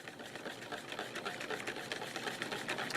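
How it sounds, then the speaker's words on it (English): Eggs and melted butter being whisked in a bowl, a fast continuous rattling whir of the whisk, close and fairly quiet, steady without breaks. "we're just going to whisk that up and incorporate it"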